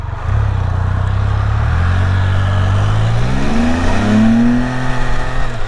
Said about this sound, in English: Broke the back tire loose.